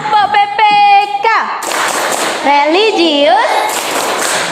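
Schoolchildren in a class clap out a patterned 'tepuk PPK' chant, with a few quick sharp claps breaking through sung and spoken voices at close range.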